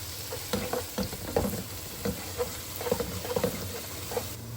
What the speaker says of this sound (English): Now I'm going to add the ginger garlic paste. I'm gonna stir it for a while until the smells come out.